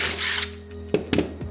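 A power drill bores through an auxiliary light and its nut during a Hyundai Santa Cruz light install, a motor whine followed by several sharp, close bursts of drilling.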